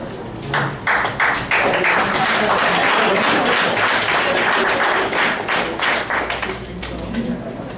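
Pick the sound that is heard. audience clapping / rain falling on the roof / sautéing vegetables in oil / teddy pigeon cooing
audience clapping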